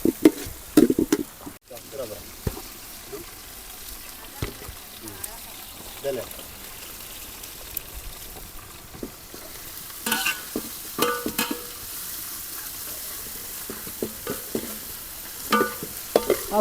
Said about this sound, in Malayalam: നമ്മുടെ ഉള്ളി നന്നായിട്ട് മൂക്കണം